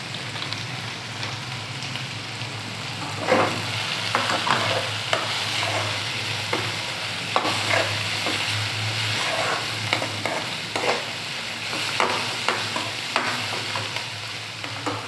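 Pasta masala with a little turmeric powder frying in a pan, a steady sizzle under brisk, repeated spatula stirs and scrapes, close and clear with no voices.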